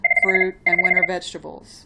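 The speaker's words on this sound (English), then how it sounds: "That's my phone ringing." An office telephone rings in two repeated electronic bursts, fairly loud and close, over and between a person lecturing.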